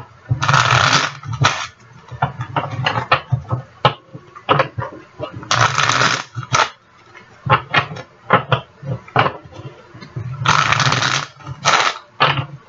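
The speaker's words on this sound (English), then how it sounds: "Let me just give these one shuffle." A deck of tarot cards being shuffled by hand in repeated bursts, riffles and snaps coming in clusters with short pauses between, close and fairly loud, no talking.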